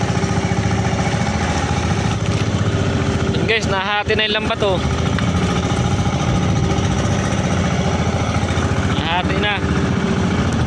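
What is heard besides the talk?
fishing boat engine running slowly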